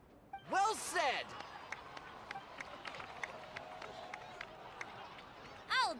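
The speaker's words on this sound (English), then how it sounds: "please give another round of applause for them" Crowd applause in a Genshin Impact cutscene: a faint, steady patter of clapping runs under the scene, broken by a voice at the start and again at the end.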